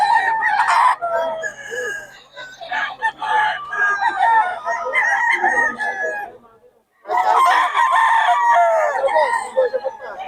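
A bull stag rooster crows loudly nearby in two long, strained calls separated by a short silence, with some clucking and faint background voices.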